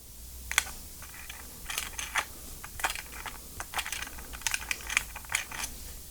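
An HB pencil scratches and taps across a cassette shell in irregular bursts of dry, papery strokes, close and fairly quiet with no voices.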